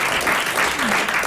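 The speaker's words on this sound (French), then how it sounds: "Vous venez d'applaudir Monsieur Maurice Hogg de Pont-à-Marc" A French radio game show's studio audience applauds, a dense, even roar of many hands clapping together, sustained and fairly loud with slight swells, no voices over it.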